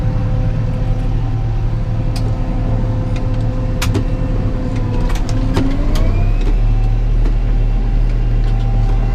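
Kubota M135GX tractor running a Normand N98-342HTR attachment through tall growth, a loud continuous engine drone with steady low rumble, occasional sharp snaps and a rising mechanical whine midway.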